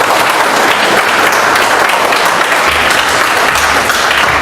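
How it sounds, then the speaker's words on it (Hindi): Loud applause from a training-seminar audience, dense and sustained clapping that stays strong throughout with no voices over it. "एक बार जोरदार ताली बजा दो जरा"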